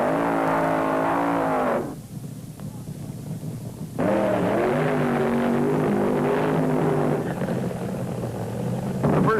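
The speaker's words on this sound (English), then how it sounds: "Suddenly, it was time for the funny cars, and some wild ones burned out of the staging area." Funny car drag racers doing burnouts at the 1973 IHRA Northern Nationals, loud roaring engines with a brief drop in the roar before a second car howls up, sustained and close.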